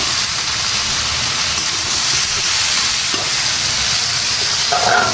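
Hot oil in a wok sizzles loudly and evenly, a broad, continuous hiss close to the listener that holds steady throughout.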